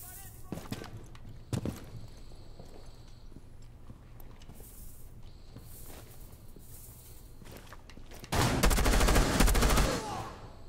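Gunfire from a weapon in Rainbow Six Siege sounds as a few scattered sharp shots, then a loud sustained burst of automatic fire near the end, over quieter game noise.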